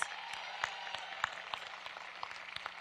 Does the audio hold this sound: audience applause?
yes